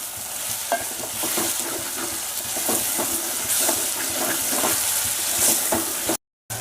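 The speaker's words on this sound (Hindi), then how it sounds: "अभी इसको अच्छे से फ्राई करके लेना है।" Tomatoes with salt frying in a tadka for dal fry, with steady close sizzling and stirring scrapes throughout, a brief dropout near the end.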